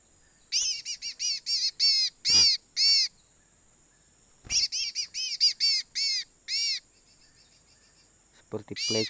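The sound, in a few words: bird chirping, like a pleci (white-eye)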